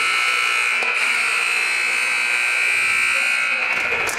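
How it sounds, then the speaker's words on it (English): A loud, sustained electronic game-end buzzer at a girls' basketball game blares continuously over crowd noise, holding one harsh tone throughout. "as you can hear by the buzzer"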